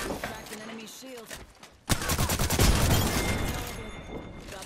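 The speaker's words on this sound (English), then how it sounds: "I'm getting shot at" Rapid enemy gunfire in a first-person shooter video game, a loud sustained burst of shots kicking in partway through after a quieter stretch with a voice.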